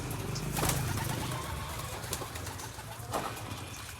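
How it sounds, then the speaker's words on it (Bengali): Several pigeons sitting on eggs coo in low, throaty phrases that repeat through the clip, steady and moderately close, over a constant background hiss with a few brief rustles. "অনেকগুলো কবুতর প্রায় ডিম নিয়ে বসে আছে"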